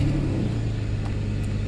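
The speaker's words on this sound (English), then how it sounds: "The next thing what we're gonna do is we're gonna start the engine" A Mercedes 600SEL engine runs without its throttle bodies installed, giving a steady, close, low rumbling idle with a mild rev rise partway through.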